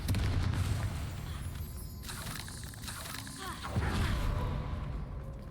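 Confringo fire spell cast in Hogwarts Legacy, a burst of booming explosive cracks and rumbling blasts with a second impact later, over a busy game soundscape.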